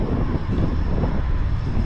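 Steady wind buffets the microphone, a continuous low rumble with no other sounds.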